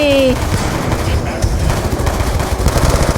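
Rapid, loud bursts of automatic gunfire in the video game Call of Duty Black Ops 2, close and continuous with a brief tonal effect at the start.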